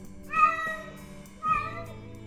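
A stock cat sound effect gives two clear, close meows with a pause between them, alone and without background noise.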